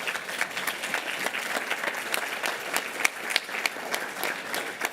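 Board meeting audience applauding a student pledge leader, a full, even round of clapping from a room of people with crisp claps popping out, sustained and fairly loud the whole time.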